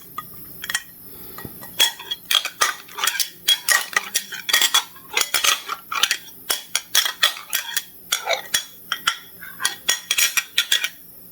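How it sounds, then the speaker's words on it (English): A plate and cutlery clink and scrape in quick irregular bursts, close by, with bright metallic ticks repeating throughout and no talking. "I hope this plate not too noisy."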